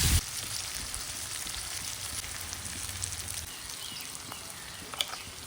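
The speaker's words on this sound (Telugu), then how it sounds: "వీటన్నిటిని బాగా కలుపుకుంటూ వేయించుకోవాలి" Capsicum and tomato masala with turmeric sizzles steadily in a pan as it is fried and stirred, a constant hiss with occasional small pops and one brief louder clack near the end.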